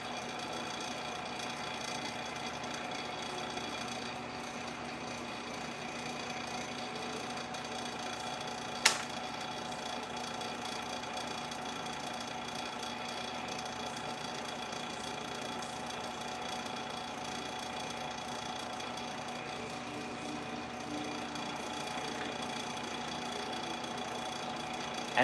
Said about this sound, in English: I think my vacuum chamber might be out of oil.